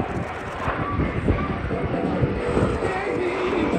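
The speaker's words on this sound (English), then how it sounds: "As you hear that whistle as it goes to the north of here" A veteran Canberra jet aircraft passes at the Australian International Airshow 2023, its engine giving a steady broad whistling roar with gusty wind noise that keeps up for the whole stretch.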